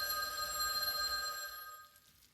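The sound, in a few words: telephone ringing in the video game Mahoyo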